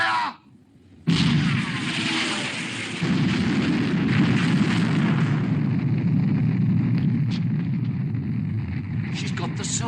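A warship's main armament guns open fire in the British war film Sink the Bismarck: after a brief lull, a sudden loud blast gives way to a sustained, thundering roar of gunfire and rumble.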